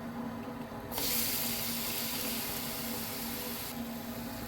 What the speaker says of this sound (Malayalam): നെയ്യ് ചേർത്ത് കൊടുത്തതിന് ശേഷം നമുക്ക് അതിലേക്ക് പഴം ഇട്ട് കൊടുത്തിട്ട് ഒന്ന് വഴറ്റിയെടുക്കാം